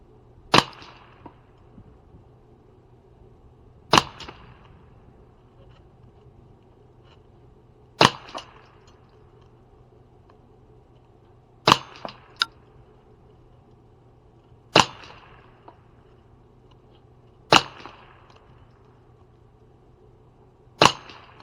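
A Ruger 10/22 rifle with a 24-inch Green Mountain barrel fires KYL .22 ammunition: seven sharp, loud single shots spaced a few seconds apart, each cracking out alone over a quiet background with no talking.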